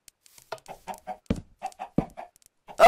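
Chickens in the Minecraft video game cluck in a quick series of short, clipped calls, fairly close and clear with silent gaps between them. A louder sound cuts in at the very end.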